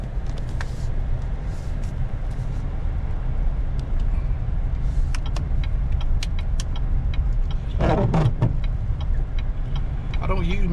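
A four-wheel drive vehicle rolls along a snowy winter road around a town square, its steady engine and road rumble continuous throughout, with someone talking over it in places.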